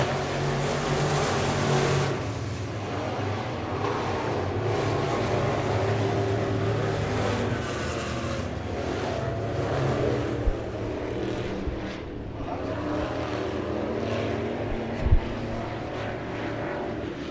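Dirt track race car engines droning at Victory Lane Speedway in Manitoba, Canada, a steady loud roar of several cars circling, with a couple of short thumps near the end.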